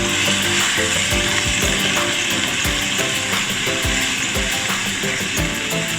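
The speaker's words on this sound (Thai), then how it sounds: "แล้วก็จะทำการผัด อีกนิดนึงนะครับ คนให้ส่วนผสมเข้ากัน" Pork and dill stir-fried in a pan with a splash of water: a continuous loud sizzle, broken by repeated scraping spatula strokes in an uneven rhythm, close up with no talking.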